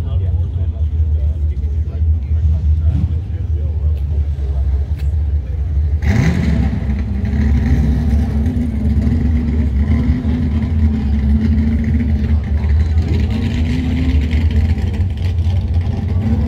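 A Dodge Challenger engine at an outdoor car show rumbles low and steady, then swells louder and deeper from about six seconds on with sustained revving, heard up close with people talking throughout.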